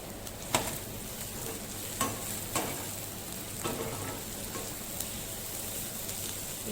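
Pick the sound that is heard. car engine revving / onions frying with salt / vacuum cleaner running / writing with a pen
onions frying with salt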